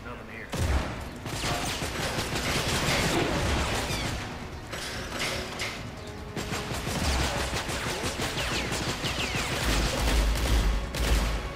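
Rapid gunfire and crashing impacts from the prison-escape video game Escape from Butcher Bay, a dense, loud barrage running almost continuously under occasional speech.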